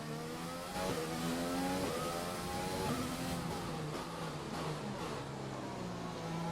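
A Formula 1 car engine in F1 2020 pulling out of the pits on medium tyres at Azerbaijan, a steady whining drone with rising and falling pitch as it accelerates and shifts, moderately loud, with nobody talking.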